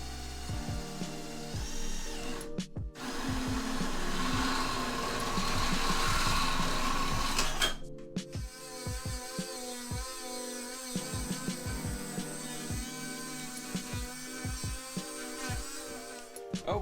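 Power tool cutting a large hole through the side of a wooden drawer during a propane cooktop install in a Camp EZ teardrop trailer, a steady whirring drone broken by short pauses and bursts, close and alone.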